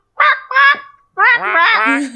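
A voice imitates a chicken with two short, nasal, honking squawks, then a longer warbling cackle, loud and close.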